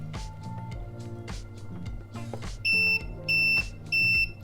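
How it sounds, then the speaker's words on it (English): Reefloat ATO controller for a reef aquarium giving three short, loud, high-pitched beeps in a steady rhythm as its button is held, heard over a busy background of musical tones. "the way that you change that is by holding down this button. And it beeps"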